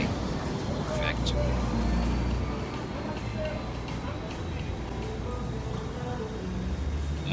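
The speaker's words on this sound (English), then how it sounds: "Here's our last look at Bay Street as a beautiful and loud truck drives by." A loud truck drives past on Bay Street in Nassau, Bahamas, over general traffic rumble. The engine swells and fades as it passes nearby.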